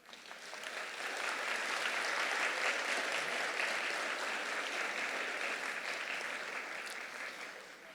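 A seated audience applauds local leaders at a mental health awareness event, a full sustained round of clapping that swells in and holds steadily before easing slightly.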